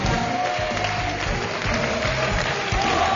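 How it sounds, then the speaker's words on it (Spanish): An audience claps in a steady, dense patter of applause that continues evenly from start to finish, moderately loud and without pauses. "Fuerte el aplauso."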